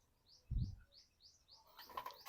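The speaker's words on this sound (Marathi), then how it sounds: "चिमणी" A house sparrow gives a quick series of about six thin, bright chirps at moderate distance in a village setting. A dull thump breaks in near the start, and a burst of rustling clatter follows at the end.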